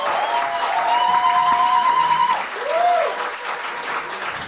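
Wedding guests applaud the bride at a reception, a steady wash of clapping throughout while voices cheer and call out above it.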